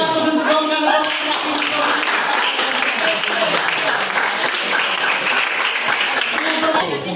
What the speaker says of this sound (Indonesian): Beri aplaus untuk kawan-kawan.